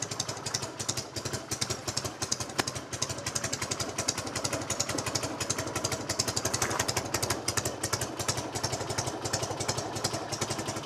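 Classic old motorcycle engine idling while warming up, a steady rapid thumping beat with mechanical clatter, close and continuous throughout.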